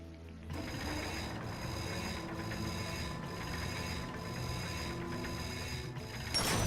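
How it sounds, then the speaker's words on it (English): Continuous whirring mechanical spin of a bolt crank in the Ratchet and Clank video game, a steady ratcheting drone with regular pulses that runs for several seconds and swells briefly at the end. "Get on that bolt crank. Come on, give it a spin."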